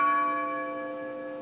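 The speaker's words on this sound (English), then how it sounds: "twin bells rang for each one of the 40 passengers and crew of United Airlines Flight 93" A single toll of the twin memorial bells at the Flight 93 memorial in Shanksville, a sustained ringing tone that slowly decays with no voices over it.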